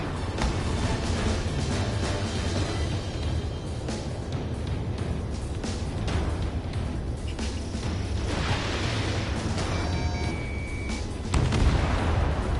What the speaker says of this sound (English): Lock on. Good night. Missile launched.